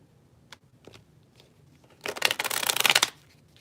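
A brand-new deck of playing cards being shuffled: a couple of faint taps, then about a second of loud, close riffling flutter.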